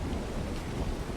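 Steady rain with a low rumble of thunder in the Ark video game, a dense, even hiss of rainfall under a deep continuous roll, no voices.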